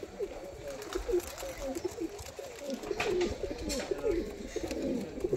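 Pigeons coo in soft, repeated throaty calls at close range, with faint background noise and a voice now and then.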